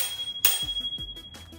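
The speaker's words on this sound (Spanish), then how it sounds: "bueno el pito no, eso es un timbre en realidad" The bell on a Xiaomi M365 electric scooter rings once with a bright metallic strike, followed by a series of quick low thumps and light clicks, close and clear.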